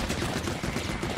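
Rapid gunfire from a gun in the Pikmin 4 video game, a dense rattling stream of evenly spaced shots that stays loud and steady throughout.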